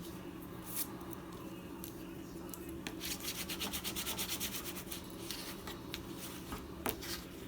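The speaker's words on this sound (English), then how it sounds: "Spread out your glue." Glue being spread across paper while assembling a handmade photo book, heard as soft close rubbing and scraping strokes, quiet, with a faster rhythmic burst of strokes in the middle.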